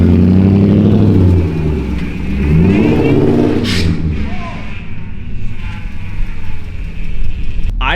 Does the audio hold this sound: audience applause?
no